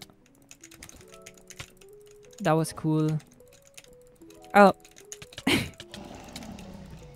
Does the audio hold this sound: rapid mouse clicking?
yes